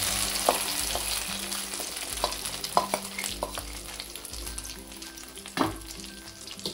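Handvo batter leavened with Eno is poured into hot oil in a pan and sizzles steadily at close range, with a few sharp spatters and clinks of a utensil, and no talking.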